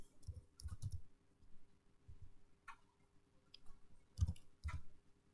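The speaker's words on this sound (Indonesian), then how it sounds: "kita bisa ketikkan K2" Typing on a computer keyboard while entering a cell reference in a spreadsheet program, a few quiet, close clusters of key clicks separated by short pauses, soft and uneven.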